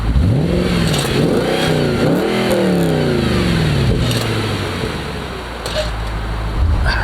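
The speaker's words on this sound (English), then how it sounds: "Now with the valves open." Audi RS4 Avant B7 with the stock exhaust valves open, blipped through several sharp revs that climb and fall back, then dropping to a deep, steady idle, close up and loud.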